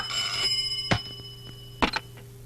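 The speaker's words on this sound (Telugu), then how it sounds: "ఫోన్ మోగుతోంది" A telephone rings in short bursts against a steady electrical hum, with faint background clatter between the rings.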